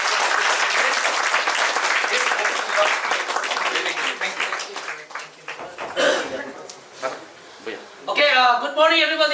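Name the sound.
audience applause at a township program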